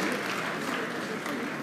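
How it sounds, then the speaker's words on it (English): Audience applause at a graduates' induction and prize awards ceremony, a steady burst of clapping filling the short moment alone. "I expect you to give a round of applause"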